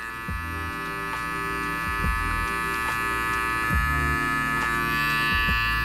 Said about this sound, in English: utilizing mostly just the corners of my clipper